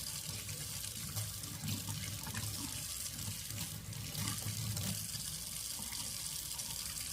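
Tap water runs steadily into a sink as cleaning instruments are rinsed during manual decontamination, a continuous close splashing gush with no talk.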